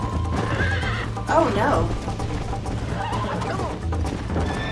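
A horse in the Red Dead Redemption video game whinnies loudly and gallops with a steady clip-clop of hooves, while a person speaks briefly over it.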